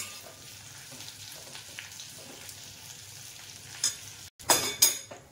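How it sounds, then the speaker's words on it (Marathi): Curry leaves fry gently in oil over low heat with a soft, steady crackle. Light stirring scrapes join in, and a few louder clinks of a utensil near the end rise above a brief pause. "बारीक गॅसवर आहे ना खूप तळायचं चांगला"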